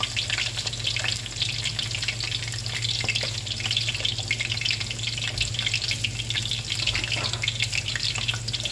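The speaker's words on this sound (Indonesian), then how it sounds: "bawang putih digoreng" Garlic for potato perkedel frying in a pan, a steady loud crackling sizzle that runs on without a break.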